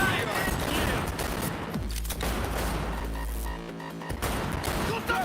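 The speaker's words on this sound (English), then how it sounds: "Shoot them in the eye, Pete!" Gunfire in a survival video game: a dense fusillade of overlapping shots with low booms runs almost continuously, loud and close, with voices shouting over it.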